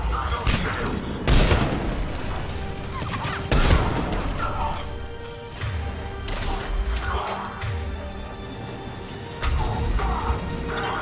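Gunfire crackles through a firefight on Sur'kesh against Cerberus troops in Mass Effect 3 on Insanity difficulty, with loud, dense bursts recurring over a constant din of battle.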